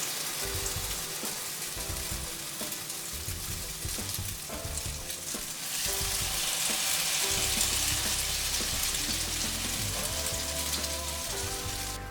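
French toast frying in ghee in a skillet over medium heat, a steady dense sizzle and crackle that swells louder partway through and continues without pause, with no talking.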